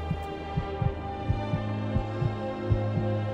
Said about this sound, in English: once you start hearing that heartbeat, it's about time